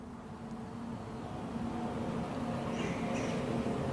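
Faint, distant bird calls, a few high chirps over a steady low rumble of background noise.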